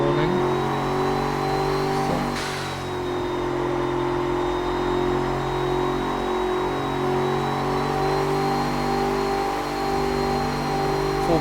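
A turbocharged car engine of nearly 700 to 800 horsepower, revving and holding a loud, steady, close roar with a rising whine throughout, no talk.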